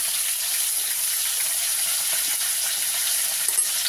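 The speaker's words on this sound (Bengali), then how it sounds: "এবার একটুখানি নুন হলুদ দিয়ে ভাজি আলু ফুলকপিটাকে।" Potatoes and cauliflower with salt and turmeric fry in a pan, making a continuous even hiss and sizzle at moderate, close volume with very little variation and no voices.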